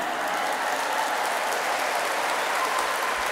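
Dense, steady applause fills a large gathering at a Maulid Nabi religious lecture, a continuous loud wash of many hands clapping without pause.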